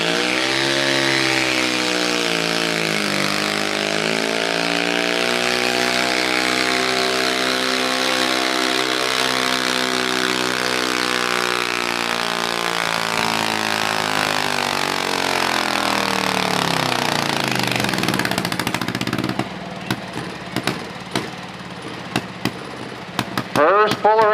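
A single-cylinder superstock garden tractor with bigger carburetors or mechanical fuel injection roars at a county fair tractor pull, a loud sustained engine note that rises and falls in pitch before cutting to rough, popping idle near the end.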